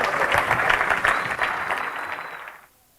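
A live audience breaks into a round of applause for a contestant after a card trick, dense steady clapping that holds for over two seconds before fading out quickly.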